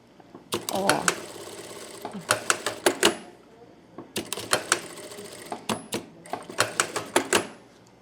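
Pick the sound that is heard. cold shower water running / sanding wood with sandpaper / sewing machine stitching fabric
sewing machine stitching fabric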